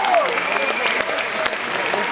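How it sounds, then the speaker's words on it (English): A commencement audience gives a sustained round of applause, a dense, steady wash of many hands clapping that fills the hall throughout, with faint voices mixed in. "We also owe you a huge round of applause and thank you."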